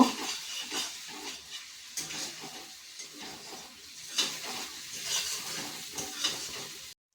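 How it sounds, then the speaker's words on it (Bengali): A spoon stirs vegetable curry frying in oil in a pan, the cook working in a little water while the spices fry down, giving a steady sizzle with repeated scraping strokes and no voices. "দিয়ে রান্নাটাকে ভালো করে কষিয়ে নিচ্ছি। তেল ছেড়ে আসা পর্যন্ত আমি নেড়ে যাব।"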